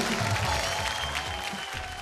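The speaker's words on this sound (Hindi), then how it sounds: "जोरदार तालियों से स्वागत कीजिए" Steady, dense applause fills a television show studio as the audience welcomes the judges, loud and continuous throughout with no voices breaking through.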